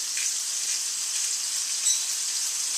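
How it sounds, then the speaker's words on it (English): Steady, even sizzle of venison searing in a hot pan, continuous and fairly close with no talking. "we're going to give this a good sear"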